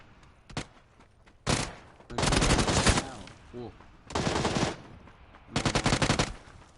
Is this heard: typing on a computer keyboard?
no